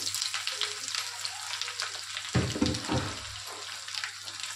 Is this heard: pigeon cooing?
no